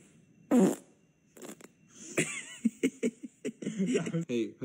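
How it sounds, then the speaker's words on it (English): Fart sounds from a person pranking a pet cat, several short sputtering blasts scattered among laughter and talking voices, close and fairly loud. "Where are you farting?"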